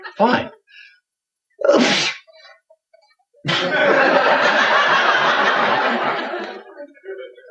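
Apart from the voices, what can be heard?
sneeze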